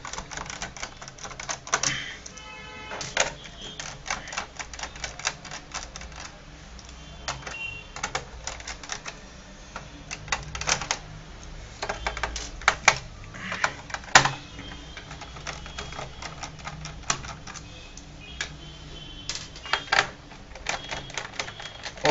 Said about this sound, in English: you have to just remove all the screws that are visible.